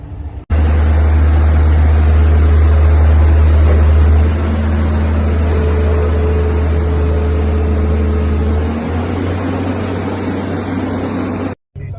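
A boat engine at a waterfront marina in Ras Al Khaimah starts abruptly and settles into a loud, steady low rumble close by, shifting pitch slightly midway and cutting off near the end.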